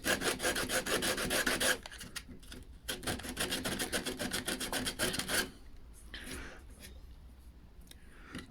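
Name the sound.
sanding a wooden hospital bed part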